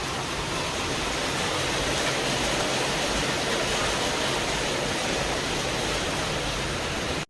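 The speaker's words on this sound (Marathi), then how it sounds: "लय जोरात पाऊस यायला लागलाय" Heavy first monsoon rain pours down outside a house in Ahilyanagar, a dense, unbroken hiss that stays loud and even throughout, with no voices.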